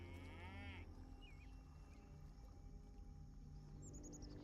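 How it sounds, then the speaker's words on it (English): A cow lowing in the Louisiana countryside of the South of Midnight video game, a fairly faint, distant moo over a steady ambient bed with scattered bird chirps. "Is there just a cow over there?"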